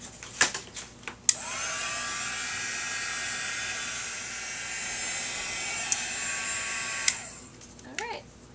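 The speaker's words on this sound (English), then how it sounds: "I'm going to take my heat gun tool and dry them." A handheld heat gun dries freshly made craft tags. It starts with a few taps, then gives a steady, close, high-pitched blowing whoosh for about six seconds before switching off with a click.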